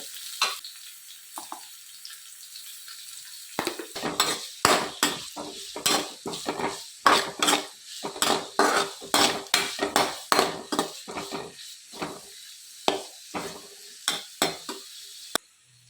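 Onions sauté with salt in a pan, quiet at first, then a long run of sharp spoon strikes and scrapes against the metal over a soft sizzle, irregular and close.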